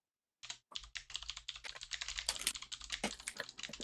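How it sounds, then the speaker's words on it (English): Fast, close typing on a computer keyboard, a dense run of crisp key clicks starting after a brief silence and continuing steadily to the end. "Uh-oh, he's typing."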